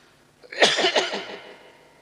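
A man coughs while ill with fever: a short burst of several harsh, raspy coughs close to the microphone, trailing off into quiet.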